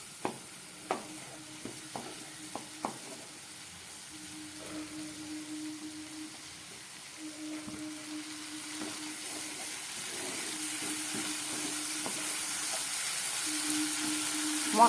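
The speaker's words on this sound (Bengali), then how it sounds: "এবার এটাকে খুব ভালো করে কষিয়ে নেব।" Spiced onion-stalk and rohu roe curry being stirred and sautéed in a pan, with a steady low sizzle, occasional spoon scrapes and clicks, and a gradually rising frying hiss.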